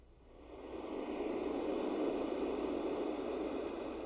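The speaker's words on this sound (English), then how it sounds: "That sound is the waves crashing on the beach." A Marsona Sound Conditioner produces simulated surf, a broad hissing wash of noise that swells up from quieter to a steady, full roar like waves rolling onto a beach.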